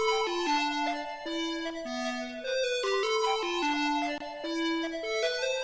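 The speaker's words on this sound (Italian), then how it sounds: "Quindi in questo caso lead sempre da Serum, sempre dalla stessa bank, ed è una lead chiamata Ting" Serum lead synth preset named Ting plays a bright, plucky melody of quick stepping notes in a trap-style beat, loud and steady with no voices.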